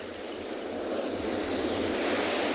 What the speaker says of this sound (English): watching the waves and watching the wind as it blows some of the sea spray back